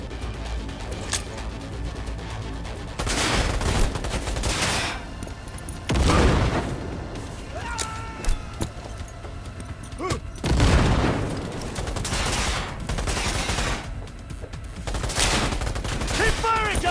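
Gunfire in Cyberpunk 2077 comes in loud, rapid bursts of shots and booms, separated by short pauses, with a voice calling out now and then.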